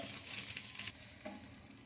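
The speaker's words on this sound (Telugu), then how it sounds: "ఇప్పుడు మొత్తం ఒకసారి బాగా కలుపుకోవాలండి" Quiet scraping and shuffling of a spatula stirring idli upma in a pan, with a faint sizzle underneath and a couple of soft knocks.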